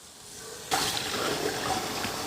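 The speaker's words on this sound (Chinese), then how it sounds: "宰好的这个鱼再来清洗一次" Cleaned fish rinsed under running water, a sudden rush of water starting partway in and flowing steadily, close and fairly loud, preceded by a quiet moment, no talk.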